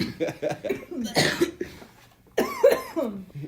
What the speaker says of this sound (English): I smoke carts often, so I feel like sometimes I'll be coughing